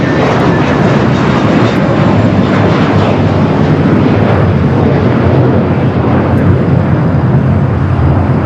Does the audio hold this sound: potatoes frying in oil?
no